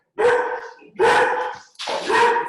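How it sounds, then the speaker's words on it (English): A dog barks loudly at the mailman at the door, three close, forceful barks with short gaps between them, with no talk over them. "My dog's barking."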